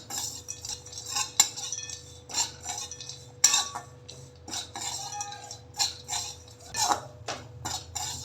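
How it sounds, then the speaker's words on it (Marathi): A utensil stirs lentils (dal) dry-roasting in a pan for sesame chutney, giving repeated metallic scrapes and clinks in an uneven rhythm, close up, with no talking. "हे डाळ आहे ते पण थोडंसं भाजून घेते आहे."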